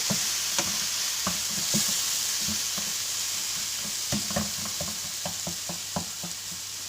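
Spiced potato and eggplant curry is stirred in a pan, with a spoon scraping and clicking in an irregular rhythm over a steady background sizzle, close and alone with no talk.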